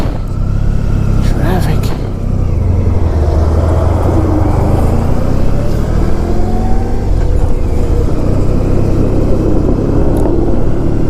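Steady, loud road traffic rumbles around a rider on a 1994 Honda ST1100 motorcycle, with engine drone, wind buffeting and passing vehicles blending into a continuous roar, and a voice speaking over it.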